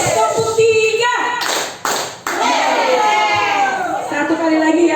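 A group of Indonesian teachers claps in a counted pattern, sharp synchronized bursts of claps between stretches of a leader's voice calling out the count.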